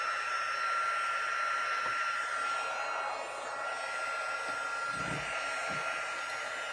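A heat tool blows a steady, loud whooshing hum without a break as it melts embossing powder on a Halloween card, with faint handling knocks underneath.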